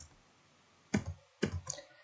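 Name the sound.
computer mouse click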